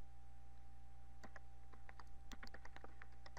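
Quick bursts of keystrokes on a computer keyboard as a username and password are entered, close and clear over a steady electrical hum, with no talking.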